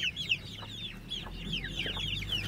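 Aseel chickens, with chicks nearby in a Lasani and Amroha aseel breeding setup, cluck and chirp repeatedly in a steady, fairly close chatter over low background noise, with no talking.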